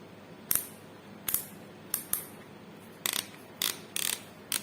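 Gear mechanism of a Makita HP333 hammer drill being turned and adjusted by hand, giving several short, sharp mechanical clicks and ratchet-like snaps in irregular bursts, close and fairly quiet, with no talking.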